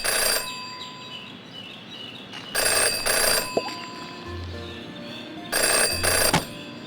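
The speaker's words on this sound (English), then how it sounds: "Jenny had learned never to ignore a ringing phone" Telephone bell ringing in the video game Jenny LeClue, three loud, close bursts of trilling rings separated by pauses, with low electronic hums between them and no talk.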